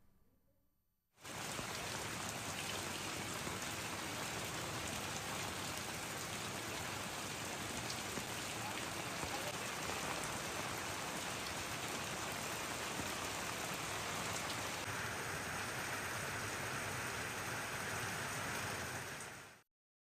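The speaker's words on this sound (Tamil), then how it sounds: "இடைவிடாமல் மிதமான மழை கொட்டி தீர்த்தது" Heavy rain pours down in Tamil Nadu, a dense, steady roar of falling water that starts abruptly and continues evenly for nearly twenty seconds, with no voices.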